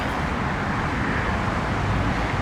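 A Harley-Davidson motorcycle engine with a non-squirter carburetor idles steadily with no throttle, giving a dense, loud, continuous rumble that fills the whole stretch without a break.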